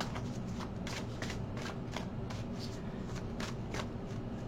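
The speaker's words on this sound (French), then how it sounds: "Ok, je vais prendre les cartes, voir un petit peu pour le général." Tarot cards are shuffled in a steady series of soft riffling, papery flicks, about a dozen quick strokes in a regular rhythm over a constant low background hum, close by, with no talking.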